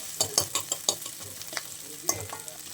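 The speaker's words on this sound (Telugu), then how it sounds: "గోల్డెన్ బ్రౌన్ లాగా వచ్చేదానికి కొంచెంసేపు వేయించుకోండి" Onions frying in a pan until golden brown for a chicken curry, with soft sizzling and a series of light scraping stir strokes, close and fairly quiet, no talk.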